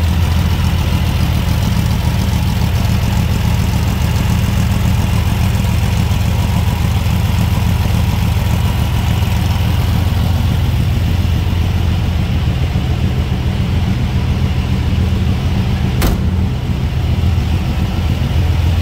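A 1970 Volkswagen Karmann Ghia's air-cooled engine idling steadily close by, a constant low rumbling hum with no revving and no talk.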